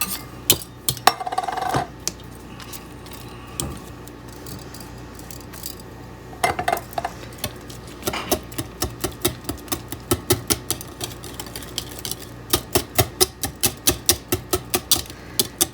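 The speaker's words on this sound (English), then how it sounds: "You just kind of whisk this till the cranberries are kind of incorporated, dissolved in" A whisk clicks rapidly against a bowl as cranberries are mixed into hot milk and marshmallows for a dairy-free cranberry fluff, fast rhythmic taps, close and clear, with a few louder knocks and no talk.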